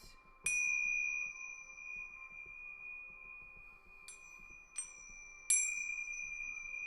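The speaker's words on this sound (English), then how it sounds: "You can also use Tibetan chimes." Bright metallic Tibetan chimes struck four times, the first alone, then three in quicker succession, each ringing out with a long, clear, sustained tone.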